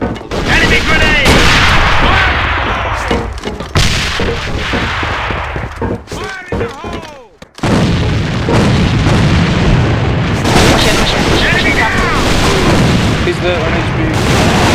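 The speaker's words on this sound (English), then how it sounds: "Fire in the hole! Fire in the hole! Enemy grenade!" Close, loud bursts of gunfire and booming grenade explosions fill a team match of the shooter game AVA, with rapid shots, heavy blasts and a brief lull, while players shout over the action.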